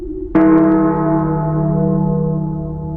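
A deep church bell strikes once with a clanging metallic onset, then its rich tone rings on and slowly fades.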